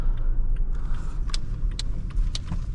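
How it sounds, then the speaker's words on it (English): 2023 Toyota Tacoma TRD Off Road engine growling low and steady from inside the cabin while driving, with light clicks and rattles over the rumble and no talking. "The only thing you can hear is just the engine growling. But it's a pleasant growl."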